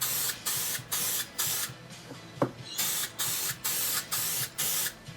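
Short repeated bursts of aerosol spray paint laying a base coat on a geocache container, about eight evenly spaced hisses with brief pauses between, close and steady.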